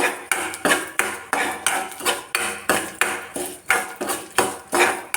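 A metal spoon scrapes and clinks rhythmically against a pot while fenugreek powder is stirred into mango pulissery curry, with about a dozen evenly spaced close strokes and no talking.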